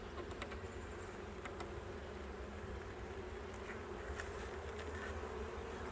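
Honey bees buzzing at an opened beehive during an inspection, a dense steady drone of many bees close by, with individual bees zipping past now and then.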